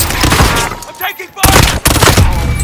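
Bursts of gunfire in the Call of Duty Warzone battle royale, with an FR.56 Jerboa rifle in use: dense, loud shots crowd most of the span, with a brief lull near the middle before the firing resumes.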